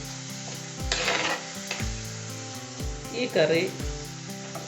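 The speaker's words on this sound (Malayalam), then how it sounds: "ഒരു 3-4 മിനിറ്റ് വഴറ്റണം കേട്ടോ" Green chili, onion and ginger sizzle and fry in a pan for a fish molee curry, with a spoon stirring and scraping in repeated strokes close by while someone speaks briefly.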